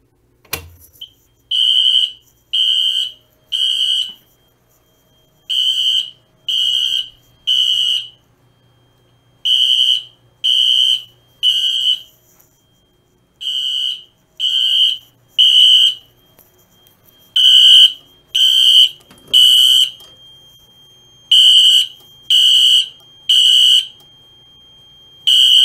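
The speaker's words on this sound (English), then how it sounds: "So now the alarm has been silenced." A fire alarm sounds during a test of a Notifier AFP-200 panel, giving loud, clear electronic horn blasts in repeated groups of three with short gaps, continuing for about twenty-five seconds before stopping.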